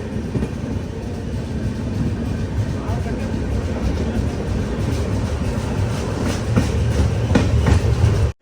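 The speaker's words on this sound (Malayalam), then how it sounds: "അർസിക്കര ജംഗ്ഷൻ റെയിൽവേ സ്റ്റേഷനിലേക്ക് ഇതാ നമ്മുടെ ട്രെയിൻ എത്തിക്കൊണ്ടിരിക്കുകയാണ്." The Jan Shatabdi Express pulls into Arsikere Junction with a steady, close rumble and rhythmic clickety-clack of wheels on rails, growing slightly louder toward the end.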